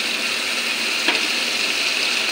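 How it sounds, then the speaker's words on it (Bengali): Spices and onion frying in a pan for a fish curry with green banana, a loud, dense, unbroken close sizzle with one faint scrape midway. "ফোড়নটা ভালো করে কষে নিই।"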